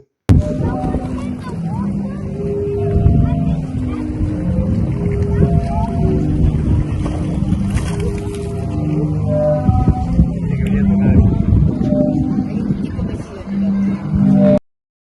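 Waves play the Sea Organ on the Croatian shore, drawing out overlapping breathy, whistling pipe tones of shifting pitch, layered over rushing water and the low hum of passing boats, with crowd chatter in the background.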